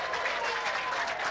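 Applause from a large crowd at a 1996 World Team Challenge bowling match at Cedarvale Lanes in Eagan, Minnesota, dense and steady clapping throughout, fairly close and filling the hall.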